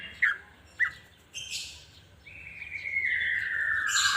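A caged green leafbird (cucak ijo) gives a few short, sharp chirps, then a sustained high whistled call that rises in strength toward the end, close and clear against a quiet background.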